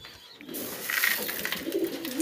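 Pigeons in a breeding loft coo in soft, low, repeated calls close by, with a steady murmur of the flock underneath.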